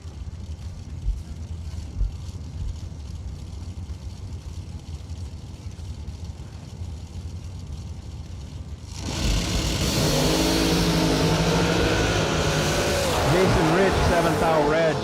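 A small supercharged drag racing car at a Christmas bracket racing event: a low engine rumble under a voice, then a sudden loud, sustained rising engine roar in the second half.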